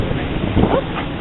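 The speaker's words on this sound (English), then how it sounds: "Cute little dog." A small dog lets out a brief, high whimper near the microphone, a single short whine against faint wind noise.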